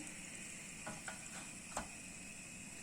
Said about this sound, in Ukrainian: Сирники смажать основним способом з обох сторін до золотистої скоринки.